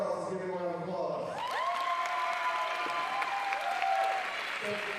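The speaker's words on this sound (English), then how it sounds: "Give him a round of applause." Applause and crowd noise fill the room for a student at a Cienega High School NCAA signing day, steady clapping throughout with a voice speaking over it partway through.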